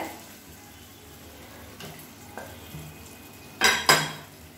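A spoon stirs rajma gravy in a cooking pot, quiet scraping with a few soft knocks, then two sharp louder clanks of metal against the pot near the end, no talk.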